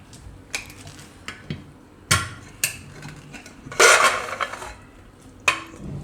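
A pressure cooker lid is opened after cooking bottle gourd with moong dal: a few sharp metallic clanks and clicks spaced apart, then a longer rattling scrape in a quiet kitchen.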